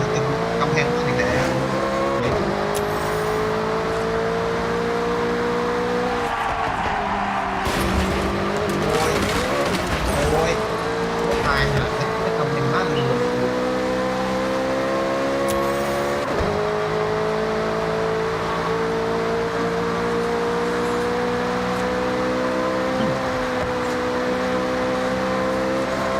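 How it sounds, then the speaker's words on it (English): Racing car engines in Forza Horizon 6 scream continuously at high revs, with gear shifts and brief dips in pitch, loud and close throughout, joined by occasional tire squeal. "blast those engines."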